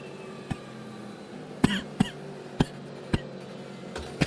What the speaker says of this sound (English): Coughing because of the dust.